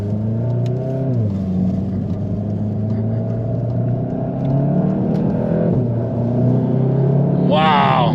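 A 2017 Volkswagen Golf GTI Mk7 with a DSG gearbox pulls hard from a start, heard from inside the cabin. The engine note climbs, drops at a quick shift, then climbs again, loud and steady, with a brief voice near the end.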